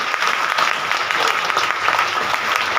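An audience at a Hindu satsang gathering in an ashram claps together, a dense, loud, steady burst of applause lasting a few seconds.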